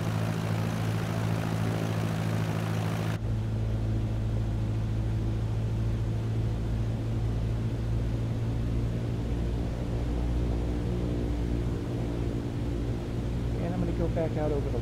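A steady small propeller airplane engine drones close by throughout, its pitch and loudness shifting lower a few seconds in as it is throttled back.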